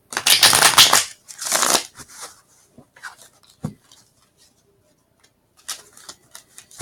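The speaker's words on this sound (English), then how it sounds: "Do some more shuffling." Playing cards are shuffled in two loud, riffling bursts, followed by softer handling taps and clicks, close up with no talking.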